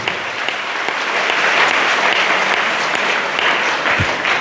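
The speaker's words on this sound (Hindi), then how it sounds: "कस के ताली बजा परमेश्वर के लिए।" A church congregation claps hard and steadily in a dense, continuous roar of applause, with no voices over it.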